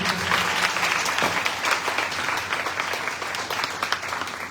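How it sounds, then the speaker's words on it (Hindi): Church congregation at a Palm Sunday service bursts into loud, sustained applause, many hands clapping densely together in a reverberant hall for several seconds. "आइए जोरदार ताली हम बजाएं।"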